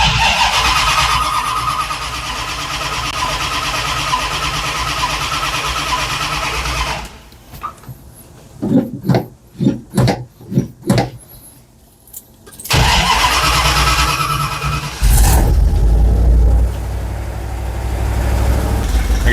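A 1979 Dodge Ramcharger V8 cranks with a series of rhythmic starter whirs, then catches and roars to life, settling into a loud steady idle with a brief rev.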